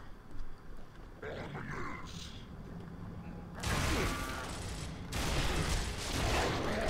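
Shotgun blasts in Gears of War come as dense, loud bursts in two long stretches after quieter scuffling, with someone talking in between.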